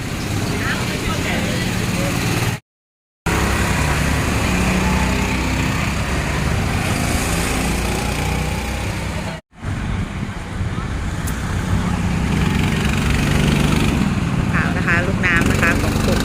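Go-kart engines running on a go-kart track, a steady, loud buzzing drone from nearby karts with brief cuts in the sound, and people talking over the engine noise.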